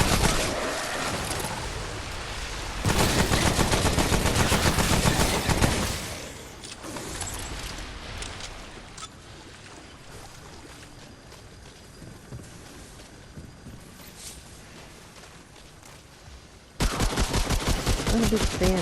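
The Defiler, a shotgun pistol firing radioactive bullets in Remnant: From the Ashes, lets out loud blasts in dense clustered bursts, with a quieter rumbling stretch between volleys.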